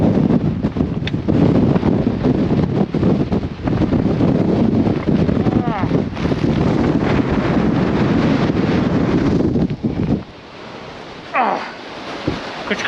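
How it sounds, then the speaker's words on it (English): Heavy wind buffets the microphone with loud, continuous low rumbling and gusts, easing briefly near the end before a final gust. "it's really, really windy."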